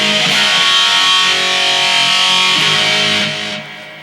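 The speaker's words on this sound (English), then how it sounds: "Pick a distortion that sounds like this." A high-gain distorted electric guitar played through a BOSS eBand JS-10 rings out as one sustained, loud chord that holds steady before decaying over about four seconds.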